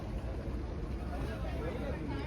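A backwater boat on the Honavar ride hums along at low level, a soft continuous engine and water wash mixed with faint wind, fairly quiet throughout.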